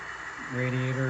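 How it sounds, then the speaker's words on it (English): A Broadway Limited E6A model locomotive in KCS colors spins up its radiator and dynamic brake fans, a steady hum that rises about halfway through into stacked tonal whine, close and fairly loud. "Radiator dynamic brake fans."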